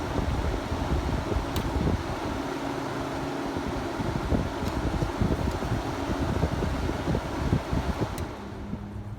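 Late-1980s Kenmore 5000 BTU window air conditioner running on fan only with the compressor off, a loud continuous whooshing fan and airflow roar with faint rattles and a few light clicks, heard up close without voices.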